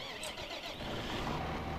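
A tractor engine in the farming game Farming Simulator 15 starts and runs on, a steady mid-pitched motor drone that holds at an even level for under two seconds without any voices.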